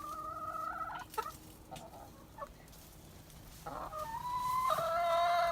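Chickens cluck and call nearby in cold weather, with a few loud drawn-out squawks and crow-like cries breaking out over steady outdoor background noise.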